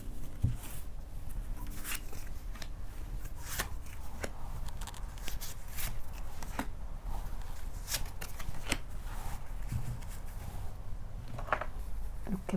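Tarot and oracle cards being shuffled and drawn by hand, a continuous close run of papery riffles, slaps and flicks with a few sharper snaps, no talking.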